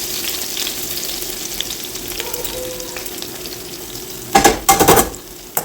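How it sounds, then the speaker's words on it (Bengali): Mustard and cumin seeds tempering in hot white oil in a kadai, with a steady crackling sizzle, then a few sharp, louder pops and spatters near the end, and no voices. "কড়াইতে সাদা তেল গরম করে সরষে আর জিরে ফোড়ন দিন"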